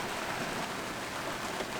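Steady rain pattering densely on a sailboat, an even hiss with no pauses.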